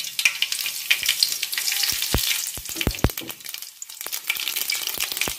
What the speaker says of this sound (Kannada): ಇವಾಗ ಇದಕ್ಕೆ ಒಗ್ಗರಣೆ ಹಾಕ್ಕೊಳ್ಳೋಣ.